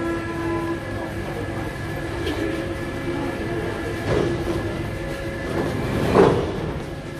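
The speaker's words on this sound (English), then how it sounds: "I'm taking the second metro now to connect with the one that is going to Gardiles." A Paris metro train runs with a steady, loud rolling rumble and a faint tonal hum, with soft swells of track noise and no voices.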